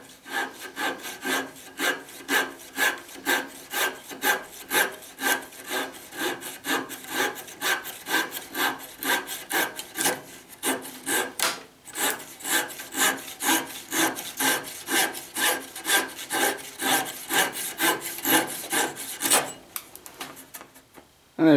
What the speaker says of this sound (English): I'm going to take a flush cut saw and I'm going to cut these splines off